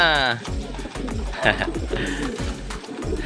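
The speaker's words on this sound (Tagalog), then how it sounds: "Pumasok na si Panot." Homing pigeons cooing softly at their loft after a 105 km training race, with low repeated coos and a brief chirp, along with some fluttering and shuffling nearby.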